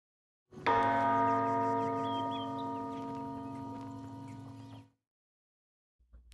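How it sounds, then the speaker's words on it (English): A single tower bell strikes once in Baldur's Gate 3, a loud, rich metallic toll that rings out and slowly decays for about four seconds before cutting off, heard alone. "Then I could easily just fly down to the next floor right underneath that to ring that bell."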